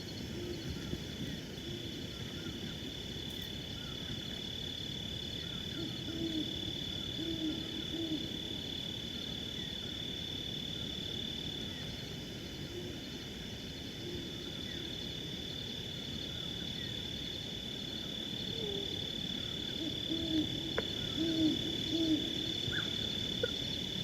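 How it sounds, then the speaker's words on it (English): A few faint, brief barks from a small elf owl break through a steady wash of crickets and insects on a quiet desert night. A high, continuous insect whine runs underneath throughout. "That was a little bark, a little elf owl bark."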